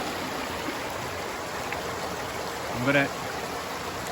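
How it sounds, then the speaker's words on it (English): Heavy, fast-flowing stream water rushes in a steady broadband wash, with a voice briefly speaking over it near the end. "The flow of water here is heavy."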